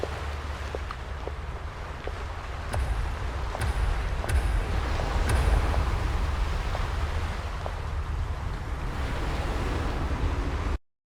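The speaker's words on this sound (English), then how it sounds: "Listening to the sound of them waves." Ocean waves wash and roll in a continuous broad rush with a few faint clicks on top, steady and fairly loud before cutting off abruptly.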